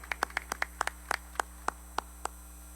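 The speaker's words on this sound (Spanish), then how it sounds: "Un fuerte voto de aplauso para Freddy" Sparse, slow hand claps at a national congress on Ayacucho music, about a dozen distinct, crisp claps in an irregular rhythm over a low electrical hum, sounding like only a few people clapping.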